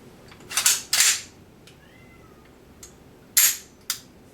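A Swedish K Carl Gustav M/45 9mm carbine is dry-fired with its original trigger: sharp, close metallic snaps and clacks in two pairs separated by a brief pause.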